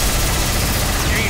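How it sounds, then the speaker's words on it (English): Iron Man fires his proton cannon special attack in Marvel vs Capcom, a dense, continuous roaring blast with rapid crackling bursts, loud and sustained throughout the short burst. "Here's the big one. Proton cannon."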